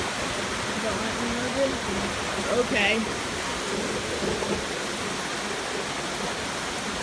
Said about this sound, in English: because it's pouring down rain